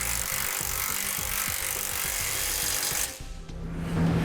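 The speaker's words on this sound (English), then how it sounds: "Now we're going to go ahead and tighten up the two that go into the weld nuts in the frame using a" Power tool with a 19mm or 3/4-inch socket tightening base plate bolts into frame weld nuts while fitting a Roadmaster crossbar-style base plate to a 2003 Toyota; a steady loud whir runs about three seconds, then drops and resumes more faintly.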